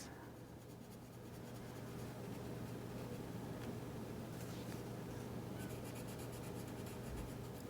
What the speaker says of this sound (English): Listening to the sound of the pencil crayon or whatever you're drawing or coloring with.